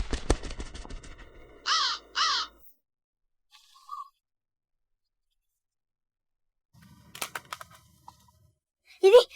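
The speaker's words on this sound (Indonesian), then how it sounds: "Itu burung gagak." A crow gives two loud, close caws in quick succession, with a brief further call near the end, while people talk before and after them.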